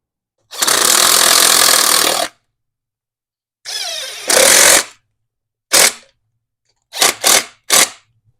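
Starter bolts on a Harley Dyna motorcycle are run in with a power driver, giving one long loud whir, then a longer burst and several short quick bursts, close and alone.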